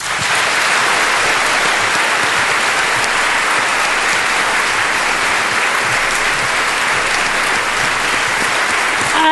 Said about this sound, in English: one final round of applause for Eva Kor, Helmut Kasper von Moltke,